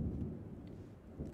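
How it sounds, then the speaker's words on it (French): Rumbling thunderstorm in The Sims 4 during a Seasons weather event, a steady low roll of thunder with rain texture running throughout, moderately loud and continuous, with no voices. "Ça n'arrête pas l'orage."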